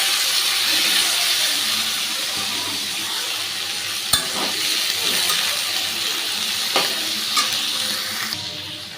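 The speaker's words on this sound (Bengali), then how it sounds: "এবারে দিচ্ছি হচ্ছে আগে থেকে কেটে রাখা পেঁয়াজ আর ক্যাপসিকাম।" Chopped onion and capsicum sizzle steadily in a hot pan for a dry chilli chicken, a continuous loud frying hiss with a few sharp clicks of stirring, no voices.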